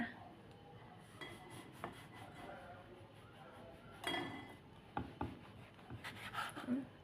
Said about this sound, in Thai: ค่อย ๆเฉือนนะ อย่ากด